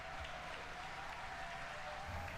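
A crowd applauding a SpaceX Falcon 9 booster landing during the Inspiration 4 mission, a steady wash of distant clapping held at an even level throughout, with no voices on top.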